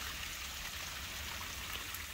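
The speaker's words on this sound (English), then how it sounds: "And you can hear the water." Water running down a small outdoor stream, a steady, even rush of flowing water heard from a short distance, fairly quiet and unbroken, with no voices.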